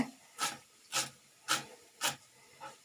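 A knife chopping fresh coriander finely on a board gives five evenly spaced, soft, crisp cuts, quiet and close with near silence between strokes.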